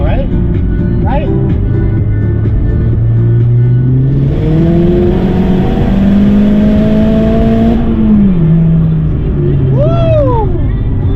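Tuned Mazdaspeed 3 accelerating hard, its engine note rising steadily through the gears with a loud, close, strained drone and a brief dip at a shift, while people talk over it.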